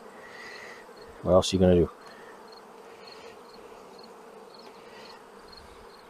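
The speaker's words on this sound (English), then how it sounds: "I know I've mixed bees from 2 hives" Honey bees from two mixed hives hum in a steady, soft drone near a resource nuc, while someone speaks briefly and a louder burst of buzzing rises close by for a moment.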